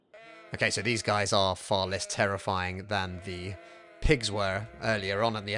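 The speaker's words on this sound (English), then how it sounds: "The echo on the sheep is terrifying." In the video game Cities: Skylines, sheep bleat loudly in long, wavering, echoing cries, several overlapping in quick succession while someone talks over them.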